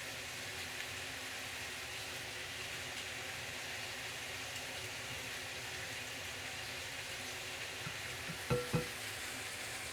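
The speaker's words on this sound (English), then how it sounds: "Mix it all up." Sweet and sour sauce for sweet and sour pork sizzles steadily in a pan while being stirred, a constant close frying hiss with a couple of brief louder clinks near the end.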